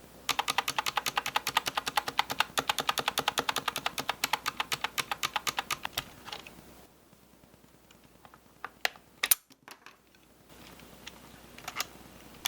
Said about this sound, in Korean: 스테빌 소음을 직접 잡기 매우 수월합니다.